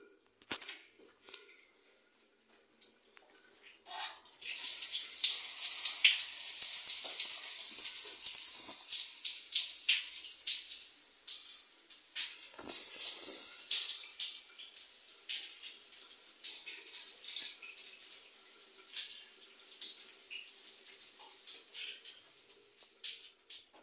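A home shower opens and water sprays steadily, a loud hissing rush that starts after a few quiet seconds and keeps running with some splashing variation.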